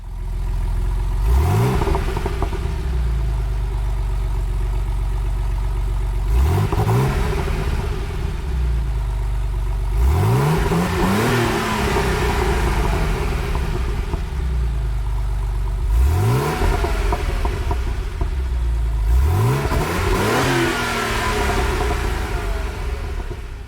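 A Porsche 959 in Gran Turismo 7 revs up four times in succession, each burst climbing sharply from idle to a loud high-pitched wail before falling back to a steady idle hum between pulls.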